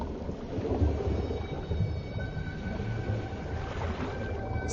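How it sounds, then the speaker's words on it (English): Humpback whale song recorded underwater, a dense low rumbling wash with faint tonal moans drifting through steady ocean noise over several seconds. "most famously as in the song of the humpback whale"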